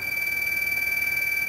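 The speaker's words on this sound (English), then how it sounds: "That's your alarm's going off" An alarm goes off with a steady, piercing high electronic tone that holds unbroken and loud throughout, with no talk over it.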